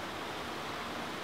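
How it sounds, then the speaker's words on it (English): Steady broadband rush of falling water, a constant even roar with no breaks. "Waterfall is really cool."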